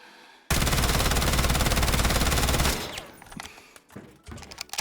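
A sudden burst of rapid automatic gunfire from a Vector submachine gun in a video game rattles loudly for about two seconds, then cuts off, leaving a few scattered clicks and thuds.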